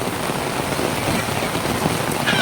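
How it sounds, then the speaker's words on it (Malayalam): Heavy rain pours at Trivandrum Zoo, a loud unbroken wash of falling water with a faint bird call near the end. "സൂപ്പർ മഴ, സൂപ്പർ മഴ"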